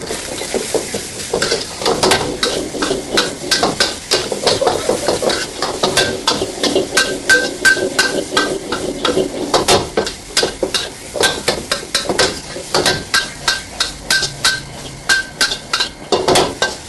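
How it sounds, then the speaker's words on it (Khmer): A spoon stirs and repeatedly taps against a pan while rice is stir-fried, giving steady rhythmic metallic clinks over a continuous sizzle, close and loud with no talking. "ពេលដែលខ្ញុំឆាគឺខ្ញុំតែគោះវែកដើម្បីឲ្យធ្លាក់បាយចេញពីវែក"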